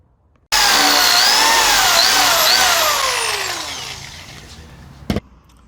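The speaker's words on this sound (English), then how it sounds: "So we'll just drill through these and we can mount those up." A power drill bores mounting holes for a spoiler extender on a BMW E36. A loud whining motor spins up, then slowly winds down, and a short sharp knock follows at the end.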